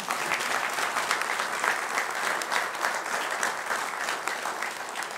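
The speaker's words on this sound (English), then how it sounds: "It's a round of applause." A crowd at a city project announcement gives a sustained round of applause for municipal staff, a thick, even wash of many clapping hands heard throughout without speech.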